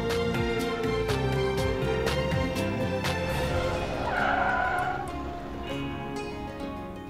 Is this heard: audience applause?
no